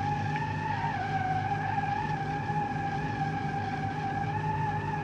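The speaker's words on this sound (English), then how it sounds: "spinning the tires for miles and miles and miles" Car tires spinning and skidding in the driving game BeamNG, a steady, loud, continuous wavering squeal over a rough engine drone, with no pauses.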